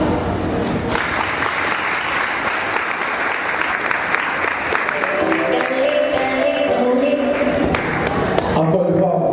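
An audience at a graduation ceremony applauds the president's speech with loud, sustained clapping from a large crowd, a continuous dense roar. A voice speaks briefly over it near the end.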